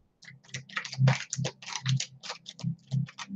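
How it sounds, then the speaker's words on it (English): A tarot card deck is shuffled by hand at close range, a quick run of dry riffling clicks in short regular bursts, with no speech. "And I apologize if you all don't like the shuffling. I like the shuffling."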